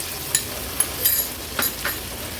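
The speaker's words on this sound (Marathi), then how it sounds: "गॅसची फ्लेम लो करते आणि कांदा व्यवस्थित शिजवून घ्यायचा आहे" Finely chopped onion cooks gently in a pan with mustard seeds, cumin, asafoetida and curry leaves over a low gas flame, a soft sizzle broken by a few light scrapes and taps of a spatula.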